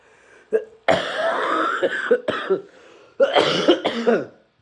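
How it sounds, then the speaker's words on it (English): A few harsh, raspy coughs in short bursts with brief pauses between, close by and fairly loud. "It's just this cough."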